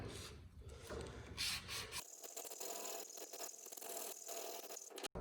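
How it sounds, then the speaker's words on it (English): Steady rasping of sandpaper rubbed over a soft basswood guitar body, continuous strokes close by, with a brief pause near the end. "This is actually a pretty soft basswood body, so it's sanding real nice and easy, real nice and smooth."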